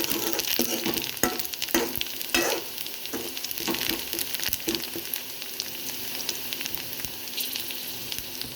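Onions sautéing in a pan for Tamil-style green pea kurma, a steady bright sizzle with occasional sharper crackles and stirring scrapes, close and continuous with no talking.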